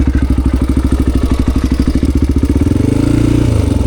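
A Honda XR400 motorcycle engine runs close by, loud and steady with a rapid thumping beat that quickens toward the end as the revs rise.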